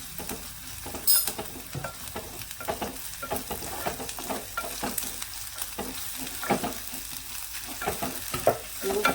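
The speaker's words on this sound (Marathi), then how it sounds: "मिक्स करून घ्यायचं म्हणजे आले लसूण छान भाजलं जातं" Ginger garlic paste fries with onion in a pan and is stirred over and over, with a steady hot sizzle broken by repeated close scraping strokes from the spoon.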